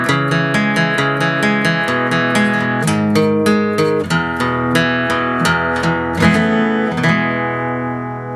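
Acoustic guitar chords strummed in a fast, steady rhythm with a hammer-on pulled into the chord, loud and close, ringing out alone near the end.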